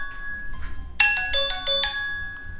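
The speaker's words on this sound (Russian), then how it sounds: "Кто-то неизвестный мне звонит" A mobile phone ringtone sounds for an incoming call from an unknown number, a bright melodic chiming pattern of repeated tones that rises loud and close over a faint hum, with no talking.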